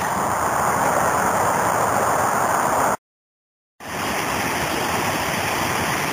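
A creek waterfall on the Los Gatos Trail roars in a continuous broadband rush, loud and close, with a sudden cut to silence midway before the rushing resumes.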